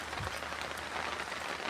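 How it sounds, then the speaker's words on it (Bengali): Steady rain pouring down after falling since the night before, a dense, even hiss with no pauses and no voices. "কোনো বৃষ্টি থামা নাই"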